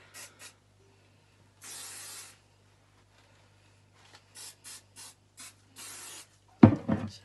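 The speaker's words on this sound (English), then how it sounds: "just get whatever hairspray you use" Several hissing hairspray bursts onto hair, some short and a couple of longer blasts, close up and alone, ending with a clunk.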